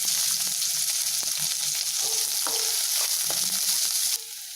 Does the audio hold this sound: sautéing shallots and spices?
yes